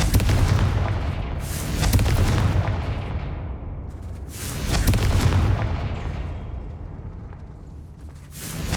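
The Confringo explosive spell in the video game Hogwarts Legacy, heard as a series of booming blasts that swell and fade in waves, loud and rumbling, with no speech.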